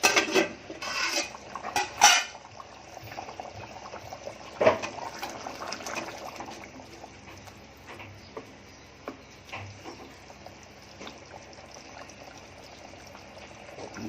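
A cooking pot for cashew pulao is handled and covered with a metal lid: several close clanks and rattles at the start and one more a little later, then a quiet bubbling simmer under faint kitchen noise.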